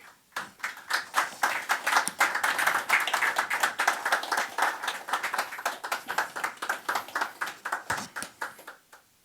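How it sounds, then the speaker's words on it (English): A conference audience at an IoT roundtable claps to welcome the panelists, a burst of brisk, moderately close applause that swells, then thins into scattered individual claps before fading. "I would like to give a nice warm round of applause for our panelists"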